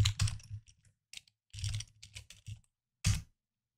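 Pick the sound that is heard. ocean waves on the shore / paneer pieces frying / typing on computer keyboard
typing on computer keyboard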